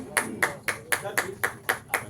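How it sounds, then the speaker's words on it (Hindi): Steady, evenly spaced claps ring out at an Ambedkar Jayanti award ceremony on Janpath, New Delhi, about four sharp beats per second, fairly close and moderately loud, with a faint murmur of voices underneath. "कृपया जोरदार तालियों से स्वागत करें"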